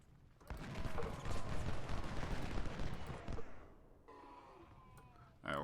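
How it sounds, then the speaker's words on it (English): Long-range rifled artillery fires in Ultimate General: Civil War during the battle of Bayou Fourche, a dense, roaring barrage of overlapping booms lasting about three seconds, then fading to a quieter rumble before one last sharp blast. "So maybe we'll just start firing on him from here in the woods. This is long-range rifled artillery."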